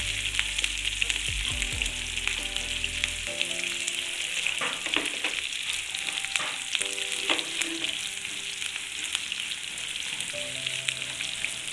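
Ginger, garlic and bitter gourd fry in hot oil for a pickle, a steady dense sizzle with occasional stirring scrapes and a brief low hum at the start.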